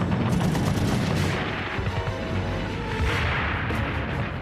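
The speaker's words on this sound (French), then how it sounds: "Elles sont immédiatement prises à partie par un feu nourri." Heavy, sustained gunfire and artillery during the WWII battle for Vaagso and the fortified islet of Maaloy. Dense overlapping bursts and booms continue loudly without a break.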